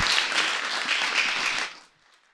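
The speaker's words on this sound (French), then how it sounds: "On applaudit les bénévoles!" Audience applauding volunteers at a podcast event show in Rennes: dense, steady clapping for about two seconds, then cutting off abruptly into near silence.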